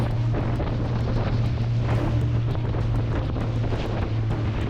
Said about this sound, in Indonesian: Ombak Samudra Hindia sangat tinggi dengan hempasan yang begitu kencang.